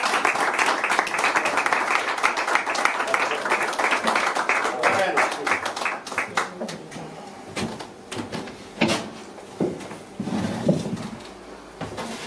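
Audience applauding at a flamenco recital for a singer and guitarist, a full burst of clapping that gradually thins into scattered claps and room murmur, with some talk.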